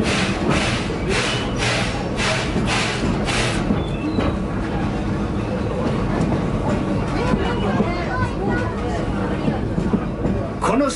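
The Western River Railroad train ride at Tokyo Disneyland clatters steadily along the track, with rhythmic rail thumps and clicks heard from the front seat, under continuous speech and background crowd chatter.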